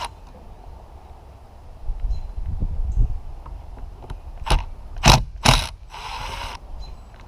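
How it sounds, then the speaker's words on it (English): Screws being backed out of a boat hatch frame holding a Lexan pane, heard as a few sharp, close metallic clicks and ratcheting bursts against a quiet background, with no talking. "So we'll pop those screws out"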